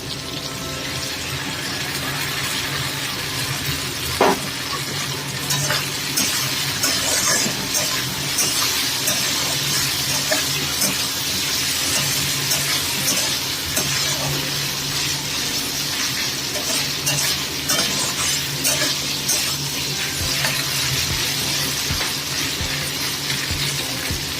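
Potatoes and bitter gourd cooking down with a ground spice paste in a pan give off a steady, dense sizzle throughout, with occasional stirring scrapes and clicks close by.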